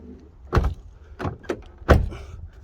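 Fiat 500 car door being worked, several close, dull thunks and clicks from the handle and latch as it opens and shuts, with a firmer final close.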